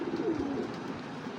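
Pigeon cooing from a racing pigeon, a hen that has been feeding her young, a low throaty coo rolling steadily through the whole moment, fairly close and continuous against soft background noise.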